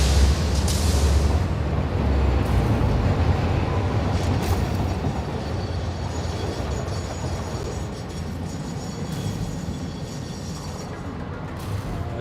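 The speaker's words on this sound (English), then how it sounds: "So that's what this train going the other way is picking up." A freight train in the factory-building game Satisfactory rolls past with a steady, loud rumble and faint clatter, the noise holding evenly throughout with no talk over it.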